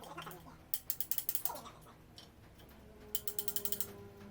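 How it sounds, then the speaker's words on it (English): A wrench clicks as LS3 flywheel bolts are torqued down, in two quick bursts of sharp ratcheting, each of about eight clicks, with a short pause between, close and fairly quiet. "Just making sure to torque everything down properly."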